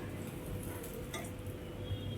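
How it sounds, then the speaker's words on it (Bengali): Rohu fish fries in hot oil in a pan, giving a soft steady sizzle with faint stirring or scraping noises, quiet and continuous with no talking. "তোমার দাদাভাই মাছটা ভাজছে"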